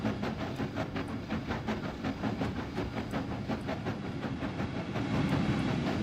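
A game train in Trainz Railroad Simulator 2019 rolls past with steady rhythmic clickety-clack of wheels over rail joints and a hissing rush, moderately loud and continuous, swelling slightly toward the end.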